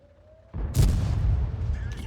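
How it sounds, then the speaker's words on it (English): Artillery fire in the World of Tanks video game: a sudden deep boom hits after a quiet start, followed by a sustained rumbling roar of game effects that stays loud to the end. "I'm going to die to artillery now"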